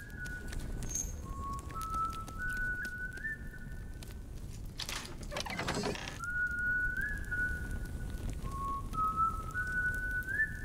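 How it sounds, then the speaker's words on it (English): A character whistles a wandering, sliding tune in the video game Ghost of a Tale, steady phrases of rising and falling notes, interrupted midway by a brief burst of broadband noise before the whistling resumes. "Who is whistling though?"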